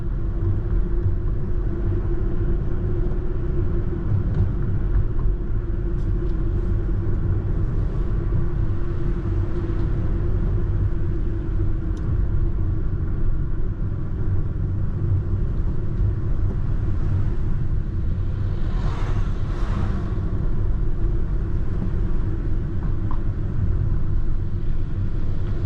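A car labors up the winding hill road from Kothagiri to Mettupalayam in second gear, giving off a continuous, loud low engine drone with road rumble for the whole stretch and no talking.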